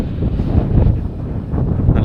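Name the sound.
strong desert wind, sandstorm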